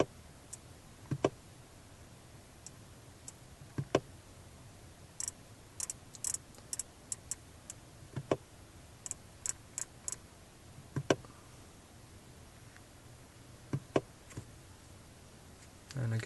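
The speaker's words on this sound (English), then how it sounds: "So again, you can hear me clicking." Controls on a Becker Map Pilot navigation device are pressed, giving sharp isolated clicks at irregular intervals, some in quick clusters, over a quiet room background.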